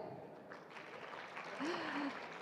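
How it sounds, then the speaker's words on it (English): Audience applause at a solar energy summit, a moderate patter of clapping across the hall with a brief tonal whistle or squeal partway through. "If you're still with me, may I hear your applause here?"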